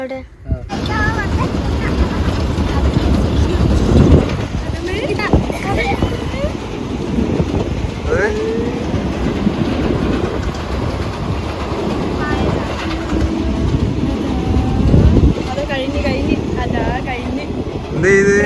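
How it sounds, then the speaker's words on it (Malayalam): A train rumbles across a bridge over a river estuary, a loud continuous rolling roar with rattling wheels and wind buffeting the microphone, while voices talk throughout. "കടലിൻ്റെ പുഴേൻ്റെ മേലെ കൂടെ ട്രെയിൻ പോകുന്ന പാലാണിത്"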